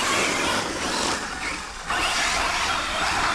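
An FTX Grand Apache RC car runs with a steady whirring hiss of motor and transmission noise, fairly quiet and continuous, with a brief dip in the middle.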